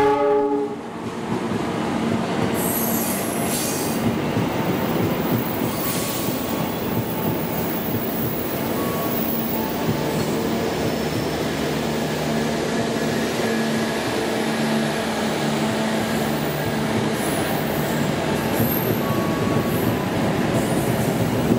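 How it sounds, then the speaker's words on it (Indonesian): The Cikuray passenger train rolls past on track 7 of a station, a loud, sustained rumble of wheels and carriages with a horn note at the start and faint squeals above, steady for the whole span with no voices. "jalur 7 telah lewat kereta api Cikuray"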